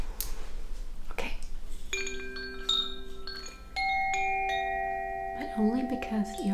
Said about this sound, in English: You want a last little finale of the wind chimes?